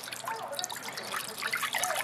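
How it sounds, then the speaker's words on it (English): A small amount of water, about one and a half cups, trickles and splashes into the bottom of a crock pot for a pot roast, a soft steady pour heard up close with no talking. "first I'm going to start off by putting a little bit of water in the bottom of the crock pot"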